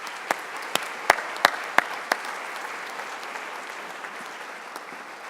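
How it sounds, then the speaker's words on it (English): An audience at a university spring convocation applauds award recipients with a dense, steady wash of clapping. A few sharper individual claps stand out early on before the applause gradually fades. "Please provide a last round of applause for all of the recipients"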